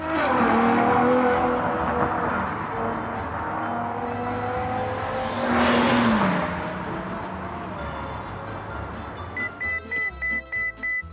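A Ferrari FF's engine roars steadily and rises in a loud pass with a tonal whine, then settles, ending with a run of rapid chiming beeps.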